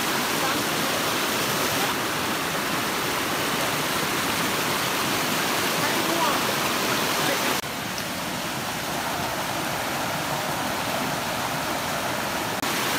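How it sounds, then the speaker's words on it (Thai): A small waterfall on a forest stream pours in a steady, loud broadband rush, continuous throughout with a slight drop in level partway through, no voices. "เป็นลำธารน้ำตกครับ"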